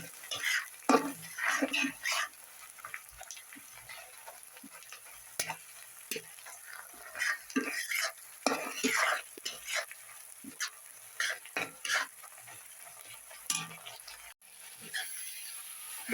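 Onions frying in a pan for a bharta make a faint sizzle, broken by intermittent scrapes and clinks of stirring. There are irregular pauses and a sharp click near the end.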